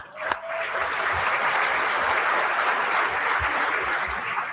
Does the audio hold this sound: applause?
yes